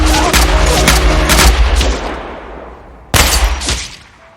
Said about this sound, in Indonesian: Yuri pun harus terkena tembakan beberapa kali.